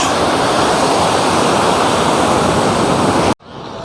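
Strong sea waves breaking on Puri beach in the early morning, a loud, steady roar of surf that fills the clip without a break and then cuts off abruptly near the end.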